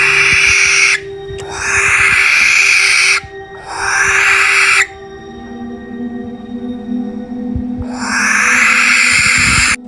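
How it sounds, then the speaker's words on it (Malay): A barn owl gives long, harsh hissing screeches, four loud bursts separated by short gaps, close and clear over a low steady background hum. "Ini merupakan suara jeritan barn owl yang berjaya saya jumpai."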